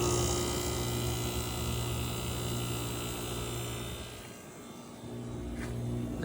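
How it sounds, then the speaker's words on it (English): The compressor of a 1979 Friedrich Power Miser 5,200 BTU room air conditioner hums steadily and close, with a low drone and a faint broadband fan rush that dips briefly near the end; no one speaks. "Let's go by the compressor."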